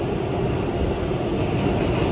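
An R211 subway car on the B line rides between stations in the New York subway, giving a steady, loud low rumble and rolling roar with no speech.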